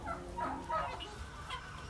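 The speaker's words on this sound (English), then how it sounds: "These are the chickens that you want to have on your farm if you want those fresh farm eggs." Old English Bantam chickens cluck softly in short, irregular bursts, a few close calls standing out over a low, steady farmyard background.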